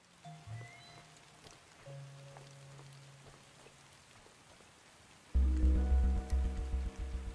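Steady rain falls in Superbrothers Sword & Sworcery, a soft continuous patter that stays faint under game tones and then swells abruptly into loud, rhythmic music near the end.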